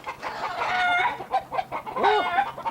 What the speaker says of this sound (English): Would you look at that? Chicken in the tree.